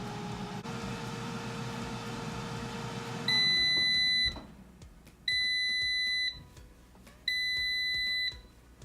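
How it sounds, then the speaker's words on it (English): A Gourmia GAF575 digital air fryer's fan hums and winds down, then three long electronic beeps sound at even intervals, loud and shrill against a quiet room. "that beeping means it's done."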